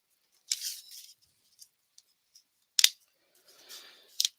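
Scissors make a few crisp snips, with short sharp cuts and faint clicks between them, close and alone in a quiet craft space.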